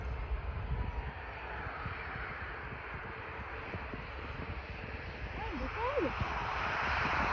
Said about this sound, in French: je check des avions atterrir